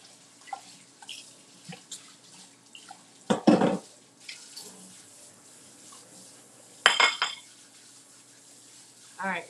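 Hands are washed and rinsed under a running kitchen tap during a live cooking demo, with splashy bursts of water and a few soft clinks, fairly quiet, and faint talk in the background.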